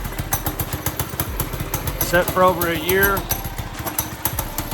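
A Monster Moto 80cc dirt bike, just fitted with a new carburetor, running with a rapid popping small-engine putter, steady and fairly close, as someone talks over it in the middle.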